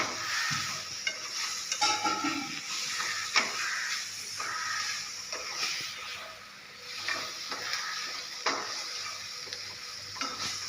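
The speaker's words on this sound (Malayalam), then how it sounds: "ഇനി നമുക്ക് എല്ലാവരും കൂടിയിട്ട് മിക്സ് ചെയ്യാം." A spoon scrapes and stirs a banana and egg mixture in a frying pan, making irregular clicks and scrapes over a soft, continuous sizzle, close and fairly quiet.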